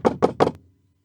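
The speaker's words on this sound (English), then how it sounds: "there was a sharp rap on the door" Three sharp, evenly spaced raps on a wooden door, close and crisp, followed by silence, used as a sound effect in a tall-tale audiobook.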